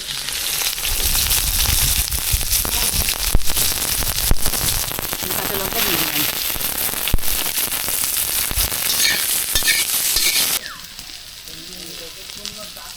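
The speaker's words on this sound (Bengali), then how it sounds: "বেগুনটা দিয়ে দেবো তেলের মধ্যে" Eggplant sizzles and crackles loudly in hot oil with mustard seed and black cumin in an outdoor picnic kitchen, a dense steady hiss with sharp pops, easing to a quieter sizzle near the end.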